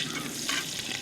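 Onion and red, yellow and green capsicum sizzle steadily in a hot pan for Dragon Chicken, with a continuous bright frying hiss and faint stirring scrapes, close and fairly loud, no talking.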